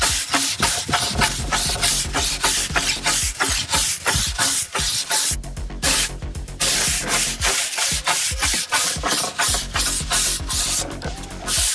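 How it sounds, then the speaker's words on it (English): Charred, burnt wood being scraped back with repeated rough strokes that run in a close, loud, steady rhythm with a few short pauses, and no voices. "this is what it looks like when we start scraping"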